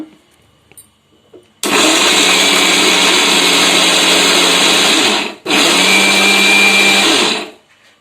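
A mixer grinder grinds rolled chapati pieces for madali, a Sankranti sweet, with a loud, close, steady whirring motor in two long runs split by a brief stop.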